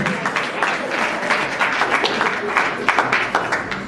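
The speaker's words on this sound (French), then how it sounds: "Est-ce qu'on peut applaudir bien encore pour l'artiste?" Applause from an audience at an awards ceremony in a hotel, a dense, steady wash of many hands clapping that holds at an even level from start to finish.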